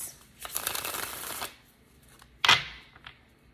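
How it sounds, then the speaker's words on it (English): A deck of cards is shuffled up close: a riffle of rapid flutters lasts about a second, then a sharp bridging snap follows after a pause, with a faint tap afterward. "Do one more shuffle and we're going to see."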